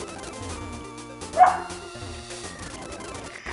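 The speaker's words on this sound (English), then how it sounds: "She's barking at the door now." A dog barking at a door indoors, a single short sharp bark rising briefly over background video game music, with no talking.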